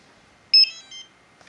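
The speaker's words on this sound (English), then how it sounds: "Now, you just heard it beep, so it connected." Radio transmitter for a Tiny Whoop Beecore drone beeping as it is switched on and binds, a short bright double beep followed by a fainter tone in otherwise quiet surroundings.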